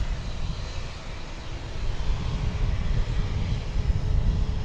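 A passenger airplane at DFW Airport, heard as a steady low engine roar that slowly builds in loudness across the whole stretch, with no talking over it.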